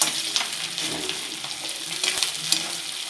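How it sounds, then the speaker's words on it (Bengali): Boiled potato pieces and onion fry in a pan with a dense, even sizzle, punctuated by light scraping stirs. "আলু পেঁয়াজ আমার ভাজা ভাজা হয়ে গেছে"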